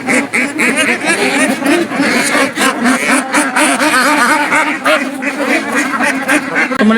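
Many ducks at a duck farm quack loudly and continuously while being loaded into a vehicle for delivery, a dense close chorus of overlapping calls with no speech.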